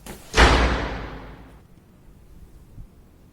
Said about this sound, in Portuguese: Você viu a porta bater?